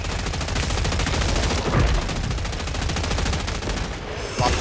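Video game gunfire from Killing Floor 3 rattles in continuous rapid automatic bursts, loud and dense throughout, with brief gaps near the end.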